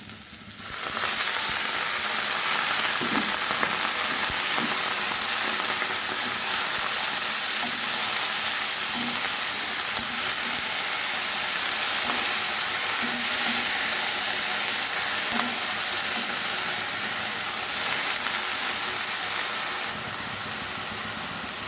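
A steady, loud sizzle of drumstick flowers frying with onion and garlic in hot oil, continuous hiss and crackle throughout with no talking.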